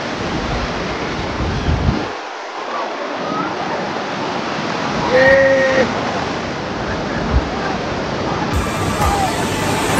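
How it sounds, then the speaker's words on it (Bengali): Sea waves roll and break on Digha beach in a steady loud roaring wash, with a crowd of people talking faintly in the background. "ঢেউ খাচ্ছি"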